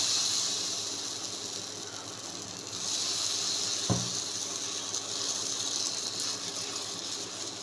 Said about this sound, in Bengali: এখন আমরা এটাকে ফ্রাই প্যানে ভেজে নিব।